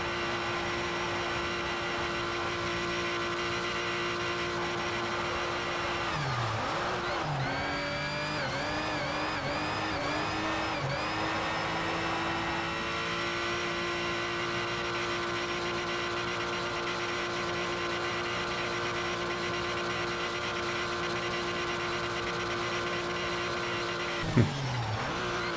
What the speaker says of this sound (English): Really feels like the engine is gonna blow up at any point.